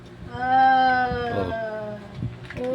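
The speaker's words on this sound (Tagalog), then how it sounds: "Meow, meow, meow, meow." A cat meows in a long, drawn-out call, then gives a shorter second cry, close and fairly loud, with a person speaking softly around it.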